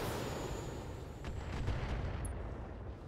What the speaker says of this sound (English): just lob some missiles over there.